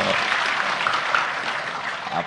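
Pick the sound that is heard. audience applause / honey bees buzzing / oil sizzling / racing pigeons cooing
audience applause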